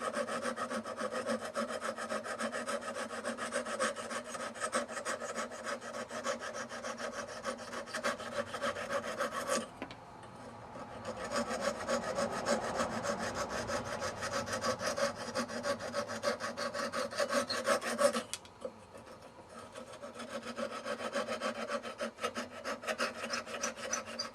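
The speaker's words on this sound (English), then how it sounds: "I'm going to go ahead and cut off the excess with my little razor saw." A small razor saw cutting off the excess ends of dried wooden reeds on a turned wooden train whistle, rasping in steady, rapid back-and-forth strokes with two brief pauses, close and alone.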